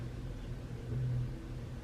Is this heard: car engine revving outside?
yes